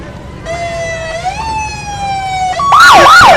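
A loud, close police SUV siren at a Fourth of July parade in Waupaca sounds a rising and falling wail, then switches to a rapid warbling yelp.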